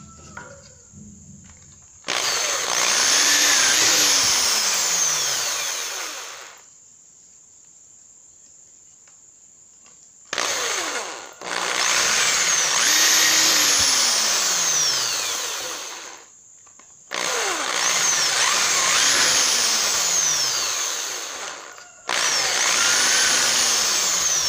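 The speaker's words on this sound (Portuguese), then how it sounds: "eu vou estar furando aqui para mostrar para vocês" A power drill bores holes into wood for a handmade miniature wooden truck, whining loudly in three long bursts with quiet pauses between, each spinning up and winding down alone.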